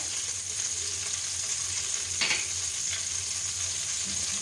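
Dried red chillies and small green cardamom pods sizzle in hot oil for tempering, a steady close hiss with a brief sharper crackle midway and no talking.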